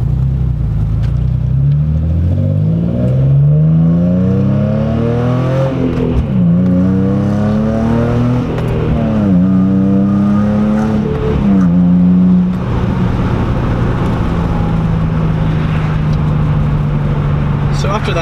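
A car with a loud aftermarket exhaust accelerating hard along a main road, engine note rising repeatedly through several gear changes before settling into a steady drone, heard from inside the cabin.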